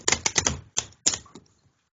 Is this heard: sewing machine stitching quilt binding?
no